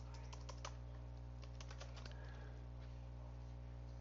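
Typing on a computer keyboard while entering a drafting command, scattered soft key clicks in short clusters over a steady low hum, quiet and close.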